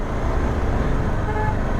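Car horn honking on a rough landslide-damaged mountain road, a steady loud toot blending with engine and road noise for just under two seconds.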